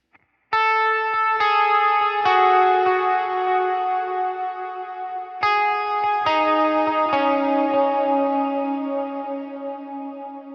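Electric guitar with single-coil pickups playing a clean preset tone, with several picked notes and chords ringing out under chorus and reverb; the notes sustain and decay naturally, and a second phrase repeats the pattern.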